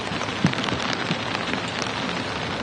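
Heavy rain pours down at Manchester Airport, a loud, close, unbroken wash of drops drumming on surfaces with scattered sharper splashes and no talk over it.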